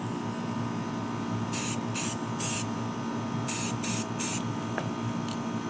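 A spray can lays primer coats on BMW E92 headlights in short hissing bursts, three then three more, each about a third of a second, over a steady background hum.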